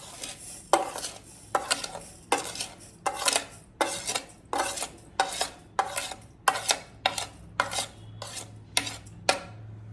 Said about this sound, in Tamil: இந்த பால் ஊற்றி வச்சுருக்கேன் இல்லையா, அதில் நான் சுகர் ஆட் பண்ண போகிறேன்.